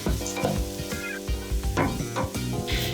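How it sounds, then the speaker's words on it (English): Carrot, onion and celery fry in butter and olive oil with a pinch of salt, a steady close sizzle broken by the scrape and clatter of stirring. "Once hot, add the carrot, onion and celery with a pinch of salt and cook for 7 to 8 minutes"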